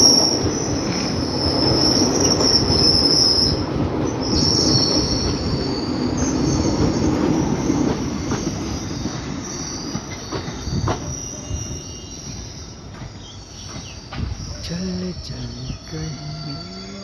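Amritsar–Darbhanga Jan Nayak Express 15212 rolling past on Indian railway tracks, loud rumbling wheels with a high squeal for several seconds, then fading to clanks as crickets chirp steadily in the background.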